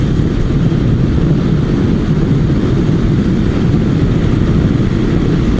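Inside a Shoei Glamster helmet on a motorcycle cruising at 100 km/h, a loud, constant roar of wind and engine fills the whole stretch with steady low-end rumble and no voices.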